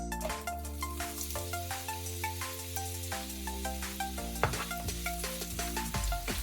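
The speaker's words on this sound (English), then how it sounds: "Just saute the onions a bit." Onions sautéing in olive oil in a pan over a medium flame give a steady, quiet sizzle. Occasional light clinks sit under a loud sustained tonal background that largely masks the frying.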